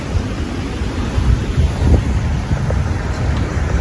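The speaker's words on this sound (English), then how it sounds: "there's the head sail deflating, inflating again." Headsail of a sailboat flapping as it spills and refills with wind while sailing offshore, a steady rumble of wind and water with soft, irregular fabric flutters throughout.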